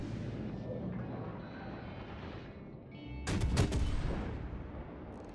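Cleveland cruiser naval guns firing a salvo in the World of Warships video game, a loud burst of cannon blasts after a steady low rumble of engine and sea ambience, with no talking.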